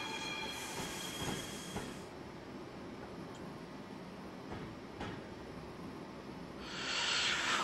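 Class 450 train in Train Simulator 2016 on the Portsmouth Direct Line passing close by, with a faint rumble, brief wheel squeal and a couple of bursts of hiss at the start and end.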